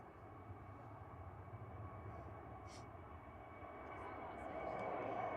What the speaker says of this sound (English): that's Norwegian just heading back to Oslo, and then NHG is a 8-year-old 737-800